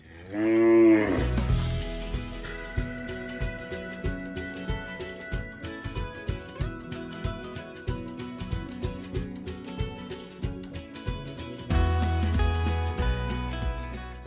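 Several cows moo loudly and repeatedly nearby in a cowshed in Kankavli, deep drawn-out lows overlapping in a steady series over a low background hum.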